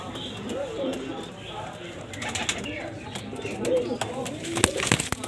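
Antique Salara pigeons cooing softly at close range, with low repeated coos, occasional wing flutters and someone talking over them.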